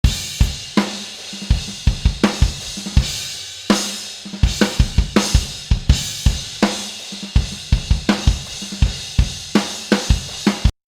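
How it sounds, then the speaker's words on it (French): Raw drum tracks from a studio recording session play back unprocessed, a loud, steady beat of punchy kick and snare hits with ringing cymbals, repeating throughout without voices. "ce que vous avez entendu, c'est les batteries brutes."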